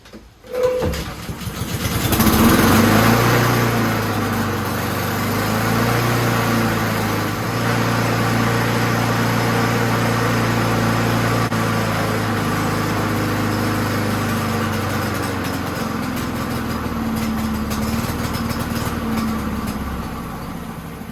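A Honda GCV160 push mower engine with a suspected carburetor or fuel flow problem starts up and runs at a steady, loud drone for about twenty seconds, easing slightly toward the end.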